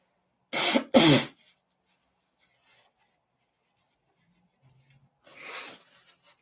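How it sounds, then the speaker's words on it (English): A person blows their nose in two short, forceful bursts close by, followed by near silence and then a softer, longer blow. "I need to blow my nose a little"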